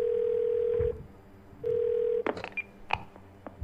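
Phone line tones while calling 911 in the game Twelve Minutes: a steady dial tone, a pause, the tone again, then a quick run of bright keypad beeps, clear and close.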